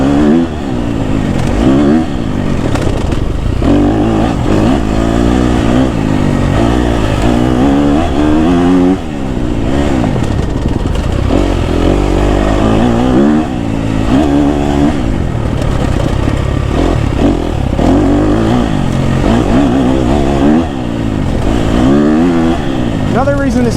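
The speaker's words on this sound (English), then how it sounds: "Another reason this KTM motor is so good in the woods, the gears rev out so far, so long, that I hardly have to shift." A KTM 250 SXF dirt bike ridden through tight forest trails, its engine droning and revving continuously at close range with few gear shifts, while a rider's voice talks over the motor.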